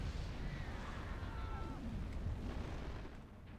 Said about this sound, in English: Mount Doom exploding